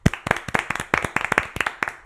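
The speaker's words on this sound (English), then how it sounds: "how about we give ourselves a little round of applause real quick?" A small group at a table claps in a short round of applause, with about a dozen sharp, uneven hand claps spread over two seconds. The claps are close and fairly loud, with no speech over them.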